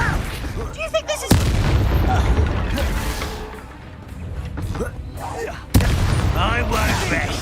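Confringo spell explosions in the Hogwarts Legacy video game, two sharp, loud booming blasts a few seconds apart, with combat noise and shouted voices in between.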